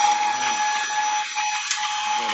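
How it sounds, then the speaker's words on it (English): A vacuum cleaner runs steadily nearby, a continuous loud whine and hiss with a sharp tonal hum and no pauses. "I'm going to vacuum here."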